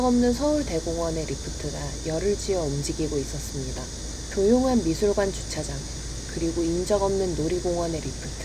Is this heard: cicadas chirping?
yes